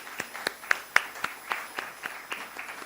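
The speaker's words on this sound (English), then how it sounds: "Let the claps be on." Scattered claps from a small audience at a stock exchange listing ceremony welcoming a company founder and CMD, sparse and uneven at roughly four per second, fairly faint and without voices.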